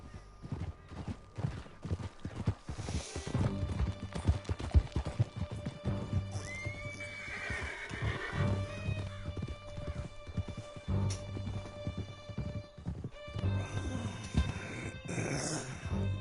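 Horses gallop with steady clip-clopping hooves and whinny during a chase through a canyon in Red Dead Redemption 2, with dogs growling faintly at times.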